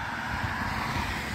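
Steady road-traffic roar from cars driving along a road on a morning in Plainfield, USA, a continuous even wash of engine and tyre noise with a windy hiss and no distinct single pass-bys.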